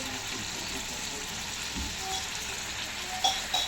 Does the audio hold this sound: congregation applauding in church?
no